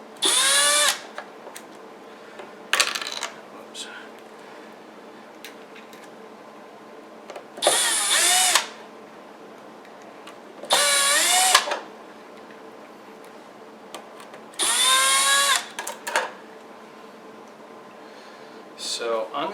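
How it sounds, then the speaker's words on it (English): A power drill fitted with a number 1 Phillips bit backs screws out of a guitar fitted with a Floyd Rose tremolo, running in several short whirring bursts separated by pauses, with a voice talking between them. "I'm going to quickly take the screws off, set them aside so I don't lose them and I don't scratch up the guitar."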